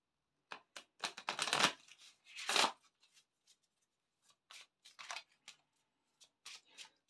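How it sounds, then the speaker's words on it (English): Rapid bursts of card shuffling, a long riffle followed by shorter flicks and scattered taps, close up with no voices. "Give them a good shuffle."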